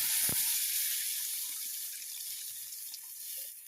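Water is poured into a cauliflower and potato curry cooking in a village kitchen. A broad, hissing splash starts loud and close, then tapers off gradually.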